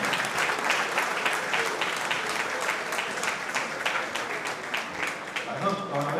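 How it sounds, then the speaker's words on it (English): Steady audience applause fills a business celebration event honoring an airline's milestones, a dense wash of many hands clapping at even loudness throughout, with a voice briefly audible near the end. "It's a round of applause again for you."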